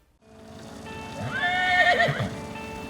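Horses in the Dakotas whinny in a close, rising and falling neigh over soft, irregular hoof clops, fairly clear against a quiet background.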